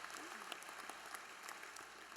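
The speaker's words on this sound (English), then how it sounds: "let's give them a round of applause because they made sure we can have this event" Audience at a Pro Football Hall of Fame event applauding its sponsors, a steady, even patter of many hands clapping throughout, moderately loud and fairly close.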